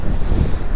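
Strong cyclone wind roars in a steady, loud, broadband rush close to the microphone, buffeting it continuously with low rumbling gusts and no voices.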